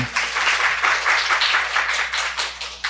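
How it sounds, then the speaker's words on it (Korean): A church congregation in Seoul claps together during a morning sermon, fairly loud, rhythmic bursts of hand claps with a faint hum underneath. "우리 하나님께 박수 한번 해드려요."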